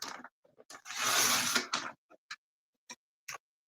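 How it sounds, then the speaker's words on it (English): Scissors cut through cardstock for a scrapbook border, giving one sustained close slicing sound followed by several short, sharp snips with quiet gaps between them. "And I'm going to cut this at about 1 inch."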